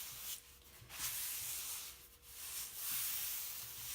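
A microfiber cloth rubs across a stencil transfer on a hard non-porous surface, soft rhythmic swishing strokes at close range, repeating in quick back-and-forth passes with no talking.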